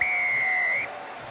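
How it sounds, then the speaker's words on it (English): A referee's long, shrill final whistle blast at a professional rugby league match between Catalans Dragons and Hull FC in Perpignan, one sustained note lasting nearly a second, loud and close over crowd noise. "But the final whistle blows in Perpignan, and Fouad Yaha and the C"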